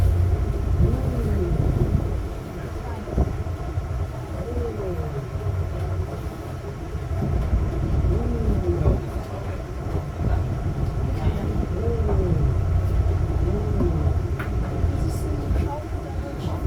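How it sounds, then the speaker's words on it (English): Trains rolling through Amsterdam Central Station, a steady low rumble with rhythmic wheel clatter heard from a distance across open water, continuous over background hum. "Thousands of regional and international trains come and go through this major transportation hub."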